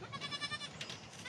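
Bottle-fed baby goats bleat faintly in a short, wavering cry, a thin, high, quavering call heard from some distance.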